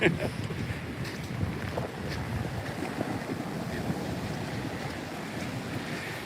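Hurricane-force wind buffets the microphone as heavy surf rolls and crashes at a beach pier, a constant roaring wash with brief gusts.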